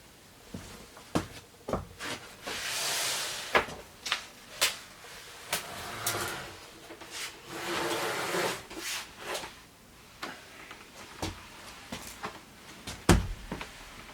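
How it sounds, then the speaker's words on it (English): A pocket door is worked into place in a school bus bathroom conversion, with scattered wooden knocks, bumps and sliding rubs over about fourteen seconds, close and irregular. "Now, let's try getting the door in place."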